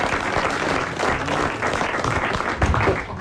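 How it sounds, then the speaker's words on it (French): A studio audience on a French comedy talk show applauds, a dense, loud burst of clapping that carries on steadily with a few voices mixed in. "on vous applaudit"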